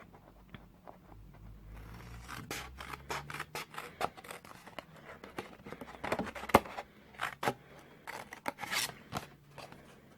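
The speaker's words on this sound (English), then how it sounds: "Might have been easy if I'd used bigger scissors." Scissors snip through cardboard in a long run of quick, sharp cuts with irregular pauses, close and fairly crisp against a quiet room.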